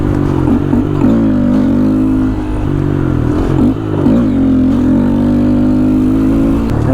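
A Honda Grom motorcycle on Shinko Mobber 505 tires cruises at around 30–35 mph with a loud, steady engine hum and slight pitch wavers, heard up close from the rider's position.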